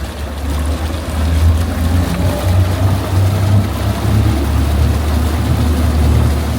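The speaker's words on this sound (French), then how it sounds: "Les moteurs font leur travail pour maintenir et le cap et la vitesse." Electric motors of an Antares 9 V2 model boat run steadily on the water while it holds heading and speed, a continuous close, loud low hum with a slight swell in level and no talk.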